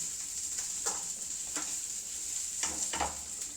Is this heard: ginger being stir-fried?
yes